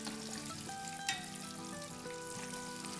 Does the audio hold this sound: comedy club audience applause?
no